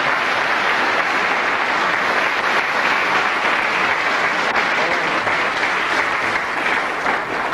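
A snooker audience gives sustained, dense applause that stays close and even for several seconds after a pot, with no pause.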